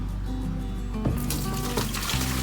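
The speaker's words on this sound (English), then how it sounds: "And basically just going to use my water changer." Aquarium water being drawn out through a siphon-style water changer during a hair algae cleanup, a steady running trickle and gurgle of flowing water with a few sharper splashes partway through, close and continuous.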